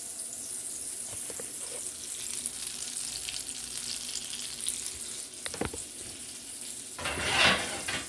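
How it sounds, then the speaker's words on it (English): Butter, about a tablespoon, melting in a frying pan for a simple breakfast: a faint, continuous crackling sizzle with brief clicks and a short louder burst of spitting near the end, no voices. "While we are waiting for our butter and things to melt"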